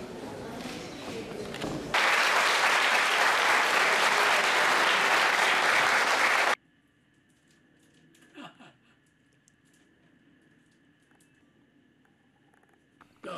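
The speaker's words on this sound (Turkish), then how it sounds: "Bir dakika sonra alkış başlıyor." A crowd bursts into loud, dense applause that holds steady for about five seconds and then stops abruptly, leaving near-silence with a few faint knocks.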